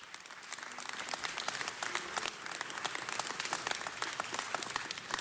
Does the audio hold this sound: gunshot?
no